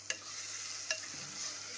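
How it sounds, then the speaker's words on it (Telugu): Masala spices frying in a small amount of oil in a pan, a soft steady sizzle with two sharp scraping stirs of a spoon and a lighter third, no voices. "పచ్చివాసన రాకుండా వేయించాలండి"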